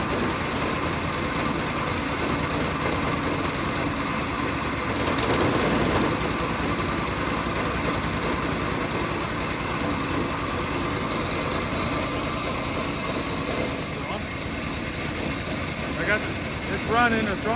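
An old, cobbled-together Ford Model T roadster engine runs steadily at a light, buzzing idle, loud and close, holding an even drone for the whole stretch, with the throttle nudged slightly near the end.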